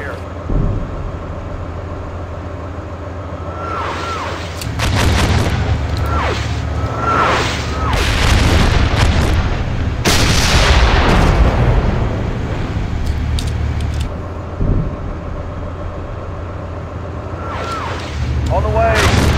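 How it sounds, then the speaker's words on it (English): Gunfire and artillery in the tank combat simulator Steel Beasts Pro, Finland campaign: deep booming blasts and rumbling explosions roll through a loud, windy battlefield din, with sharper cracks scattered throughout. Radio-style voices talk over it. "We're taking fire here."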